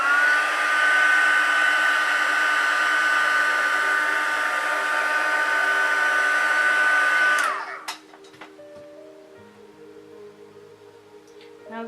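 A heat tool blows a steady, loud whirring hum while heat-setting paint on a doll's face, then cuts off abruptly after about seven seconds, leaving faint clicks and handling sounds.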